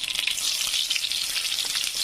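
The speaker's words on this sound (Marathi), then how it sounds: "कांदा व्यवस्थित असा फ्राय होऊ द्यायचा जरासा" Onion frying in a hot kadhai with oil and mustard seeds, a close, bright, crackling sizzle with small popping spits running steadily throughout.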